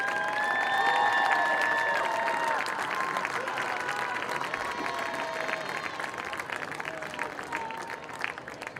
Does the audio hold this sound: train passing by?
no